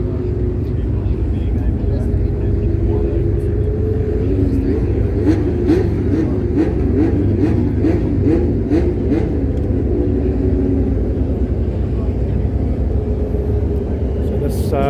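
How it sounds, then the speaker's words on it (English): A Mazda Familia Group N rally car runs on display at a motoring festival, its engine giving a steady loud rumble with rising and falling revs, while people talk over it. "It's a Mazda Familia."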